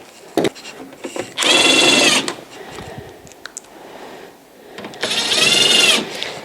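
Screws are driven into the housing of a Santa Fe Compact2 dehumidifier during a defrost thermostat replacement: two loud sustained bursts of a power driver, with quieter handling clicks and rattles between them.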